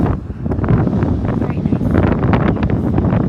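An LG window air conditioner set in a tent blows air with a broad, rushing whoosh close to the microphone, and a voice speaks briefly over it.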